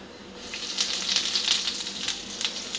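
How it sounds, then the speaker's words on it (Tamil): Mustard seeds splutter and crackle in hot sesame oil while a pickle of raw ripe mango is made, a dense sizzle with sharp pops scattered steadily throughout, close and fairly loud with no voices. "கடுகு நல்லா பொரிஞ்சிட்ருக்கு"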